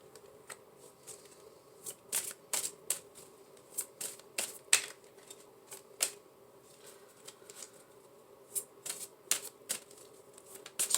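Tarot cards being shuffled and drawn, with crisp riffles and sharp card snaps repeating close up against a quiet background.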